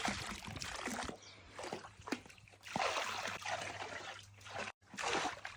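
Water runs into an outdoor swimming pool being filled, a soft uneven trickling and splashing with some faint background noise and brief gaps.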